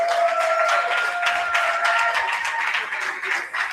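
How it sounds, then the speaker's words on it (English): A gala audience at a Young Gifted & Black entrepreneurial awards celebration applauds Carl. The close, steady clapping runs throughout, with faint tonal sounds that may be music or voices underneath. "Let's give Carl a round of applause"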